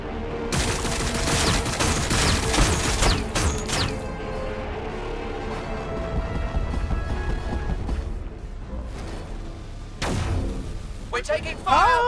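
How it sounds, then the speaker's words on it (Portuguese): Rapid volleys of gunfire and crashing impacts from the strategy video game Warhammer 40k Battlesector, dense and loud for several seconds, then thinning to scattered shots and sharp effects near the end. "Beleza, eu vou te encher de tiro, meu bom."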